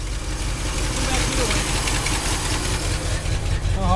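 A car engine idles roughly right after a cold start at an outdoor lot, a steady low rumble running the whole time with voices talking over it.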